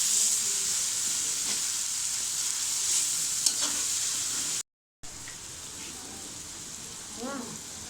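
Dried chili powder and spices sizzle and hiss in hot oil for tehari, a steady close frying crackle under occasional stirring, with a brief dropout midway.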